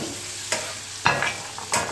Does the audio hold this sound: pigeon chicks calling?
no